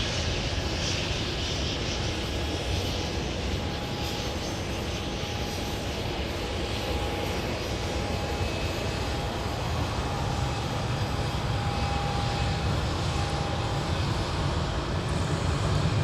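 A Prime Air Boeing 737 passes close by at MSP airport on a winter day, a loud, steady jet roar that stays strong the whole time and swells slightly toward the end, with a faint whine threading through it.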